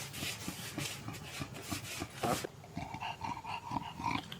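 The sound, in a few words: dog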